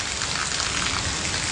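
The first rain of the year falling steadily on surfaces outdoors, a dense, even hiss of drops close by, with no talk.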